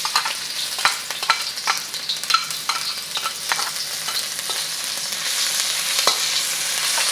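Garlic and ginger frying hard in a tablespoon of hot vegetable oil in a smoking wok, a steady loud sizzle with scattered crackles and stirring clicks, no voices.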